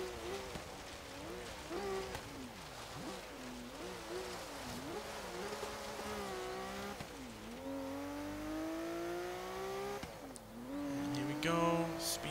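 A 1971 Meyers Manx dune buggy driving in Forza Horizon 3 with a continuous engine drone that rises and falls in pitch as it accelerates and shifts through autocross corners, slightly muffled under game sound.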